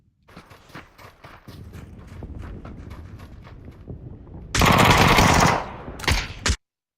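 Vector submachine gun in an online shooter game, quick bursts of automatic fire over running footsteps, followed by a dense, loud sustained volley and a few final sharp shots.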